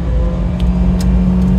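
Supercharged 1997 Subaru Sambar Dias II with a rear-mounted engine, its motor running with a steady low hum and a whirring rev, close by and loud. A few faint clicks sit above the drone, and no one speaks.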